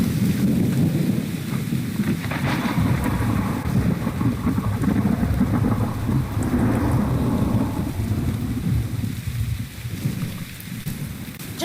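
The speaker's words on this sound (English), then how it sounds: "Oh, it's raining." Steady, dense video game rainfall from The Infected pours down continuously, with low rumbling thunder rolling underneath throughout; no voices.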